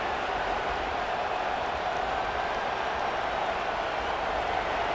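Stadium crowd noise from the College Football 25 video game, set during a Michigan State vs Oregon matchup: a steady, loud, unbroken roar of a large crowd that fills the whole stretch without any clear talk over it.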